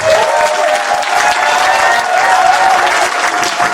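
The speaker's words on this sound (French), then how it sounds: "Nous allons les frapper fort pour produire le bruit qu'on appelle applaudissements." A crowd at a 50th birthday celebration claps loudly and continuously, a dense, steady wash of applause with a faint tonal note running beneath it.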